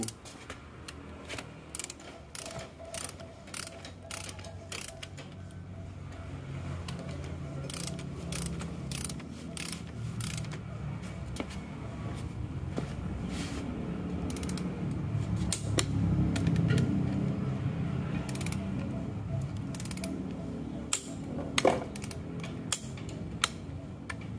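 Torque wrench tightening bolts on an Isuzu Panther engine, producing a run of quiet, close ratcheting clicks and metallic ticks over a low background hum, irregular in pace and growing a little busier midway.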